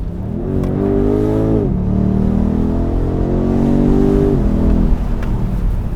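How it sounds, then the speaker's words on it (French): BMW M850i convertible's V8 engine revving hard and loud, pitch climbing through the gears with a brief dip at a shift, steady and close for several seconds. "Le V8 est disponible à tous les régimes"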